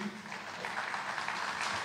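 An audience at a book launch claps in a dense, steady round of applause that stays even throughout, with a voice speaking over it.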